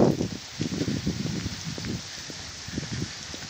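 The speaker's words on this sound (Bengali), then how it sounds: "আমি আমার পার্কিং এরিয়াতে চলে যাচ্ছি এবং এভাবে বৃষ্টি হচ্ছে।" Light winter rain falls outdoors beside a library and parking area in Lincoln, New Zealand, a soft, steady patter with uneven bursts of drops and no voices.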